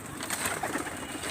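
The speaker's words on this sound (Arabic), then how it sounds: "ده حمام الاوله، حمام الاوله، حمام الاوله" Pigeons in a rooftop loft give soft, continuous cooing amid a busy, noisy background, steady and moderately close throughout.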